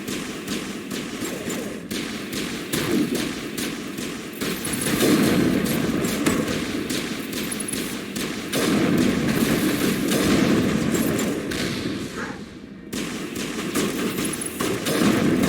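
Gunfire in Mass Effect Legendary Edition, rapid bursts of weapon fire with dull thuds rolling on for about fifteen seconds, dense and fairly loud, with one brief lull near the end.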